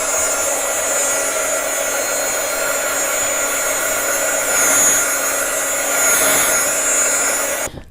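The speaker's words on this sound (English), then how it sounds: "let's go ahead and try to dry this really quick." A hair dryer blows steadily and loudly for several seconds while drying a glittered craft party face mask, its airflow rising and dipping slightly before cutting off at the end.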